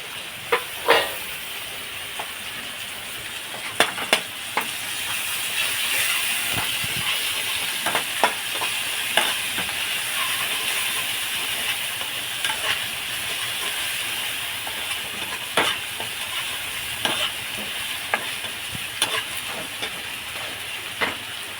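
Onion, garlic paste and slit green chillies fry in a pan, giving a steady loud hiss and sizzle throughout with scattered sharp crackles and pops.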